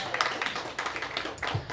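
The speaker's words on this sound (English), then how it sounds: "So let's give him a round of applause" Audience at a literacy town hall clapping for an author, scattered uneven claps from a modest crowd, fairly close and moderately loud, thinning toward the end.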